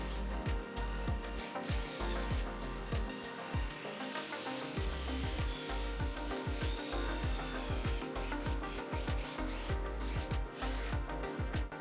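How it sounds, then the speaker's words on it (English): A power drill with a 3mm bit boring small holes, steady close whirring with repeated rhythmic bursts of bit contact, continuous and loud with no talking. "drill a few more holes with a 3mm drill bit and then enlarge them"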